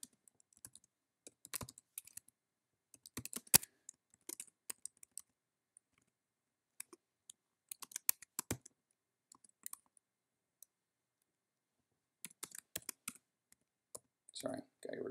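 Computer keyboard typing while data is loaded into ElasticSearch 6.x: quiet, irregular bursts of clicking keys with pauses between them, close up and faint, with no voice over it.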